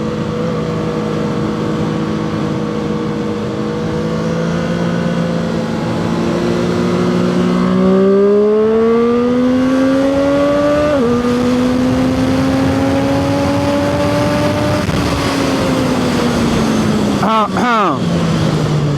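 A Zontes 703R motorcycle accelerates hard through the gears, its loud engine note climbing steadily with distinct shifts around the middle and a brief burst of revs near the end.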